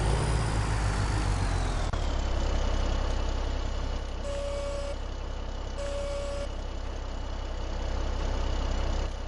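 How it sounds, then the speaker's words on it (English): Truck engine running in the video game Farming Simulator 17, a steady loud diesel rumble that drops to a smoother idle after a moment, with two brief high tones sounding over it. "we need to start the engine"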